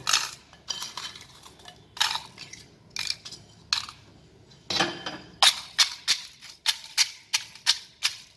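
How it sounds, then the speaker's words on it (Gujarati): Roasted red chillies being coarsely pounded for Bhavnagar-style lasaniya gathiya, heard as a series of sharp, close pounding knocks, irregular at first and then a steady regular rhythm, with no talking. "લાલ મરચાં આપણે જે શેકીને મૂક્યા હતા, હવે આપણે એને અધકચરા ખાંડી લઈએ"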